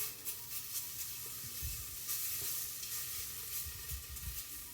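Chili, ginger and garlic aromatics fry in hot fat for a curry, giving a steady close sizzle and hiss with soft scraping stir strokes throughout, no voices.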